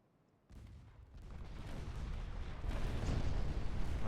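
Warship naval guns fire in the Ultimate Admiral: Dreadnoughts naval battle game: a heavy, rumbling roar of gunfire starts abruptly and keeps building in loudness, with no voices.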